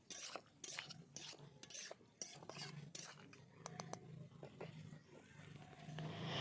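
A spoon stirs papaya and potato pieces coated in fried spices in a pan, giving repeated quiet scraping strokes and light metallic taps over a soft sizzle.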